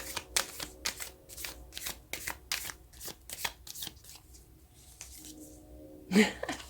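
Tarot cards are shuffled by hand in quick, crisp riffling bursts, close and fairly loud, settling into quieter shuffles before a final sharp handling noise.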